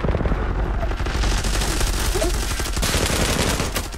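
Sustained rapid gunfire from the Zula first-person shooter, dense continuous automatic bursts running loud and close for the whole stretch, with no talk over it.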